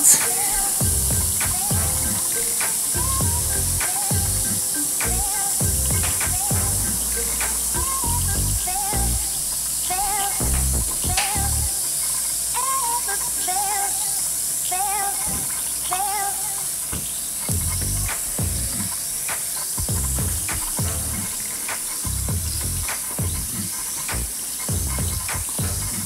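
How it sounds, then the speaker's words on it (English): Dinosaur surprise egg fizzing in water, a steady close hiss with crackly effervescence lasting throughout, joined by scattered knocks and handling noises. "Wow, it's fizzing a lot."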